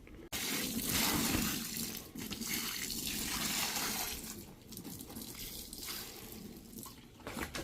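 Liquid is poured onto a urine-soaked rug in a bath, a heavy splashing gush that begins abruptly, runs strongly for several seconds, then eases into a softer, uneven flow.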